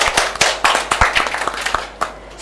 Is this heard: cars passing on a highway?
no